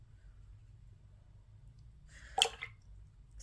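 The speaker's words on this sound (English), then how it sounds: "So let's add a bit of water." A single short drip and splash of water lands on a watercolor palette holding Daniel Smith Zoisite Genuine paint, quiet and isolated against a faint low hum.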